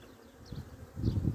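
Honeybees buzz during an inspection of an open beehive, a low, swelling hum that grows louder and closer toward the end, with no voices.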